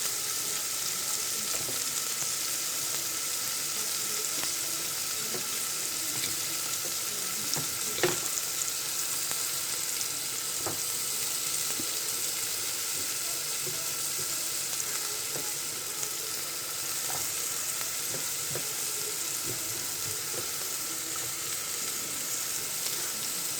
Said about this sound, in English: put in our onions. Now, that's the sound you should get when you know your oil is hot enough